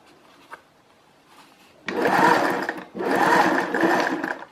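A sewing machine stitches a zip in two close, steady whirring runs separated by a brief pause, starting after a quiet moment with faint handling sounds.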